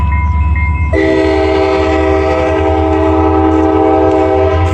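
A train rumbles loudly close by in downtown Bernalillo, with a long sustained horn blast sounding over the steady rolling noise.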